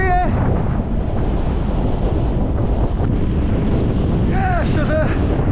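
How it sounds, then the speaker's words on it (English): Strong, roaring wind buffets the microphone on an exposed fell summit in Lake District squalls while spindrift blows, a continuous loud rush with no let-up and faint tonal squeaks near the start and end. "Getting a bit of Spindrift blowing in now."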